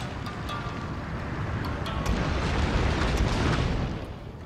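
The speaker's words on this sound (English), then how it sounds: "the wooden cannons are opening fire" Wooden cannons fire in a Total War: Shogun 2 Fall of the Samurai battle, producing a rolling, muffled wash of booming artillery with scattered sharp cracks, moderately loud and sustained.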